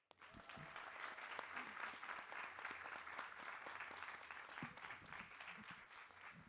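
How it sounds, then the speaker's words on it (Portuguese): Audience applause at a literary talk greets two authors, a steady wash of clapping with some nearer distinct claps, sustained for about six seconds at a quiet, distant level. "Por favor, palmas para esta dupla"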